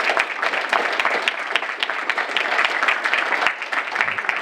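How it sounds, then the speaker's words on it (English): Audience applause at an entrepreneurship speaker series talk, a dense steady wash of many hands clapping throughout, fairly loud and close, with no voices over it. "Can we give a round of applause to Kristen?"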